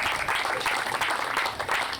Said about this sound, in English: Round of applause for Ross.